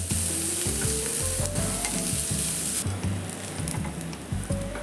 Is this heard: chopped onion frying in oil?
yes